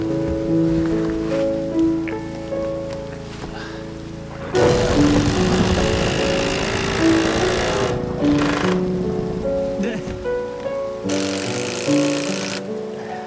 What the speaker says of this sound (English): Everything is 5 times worse when it's raining.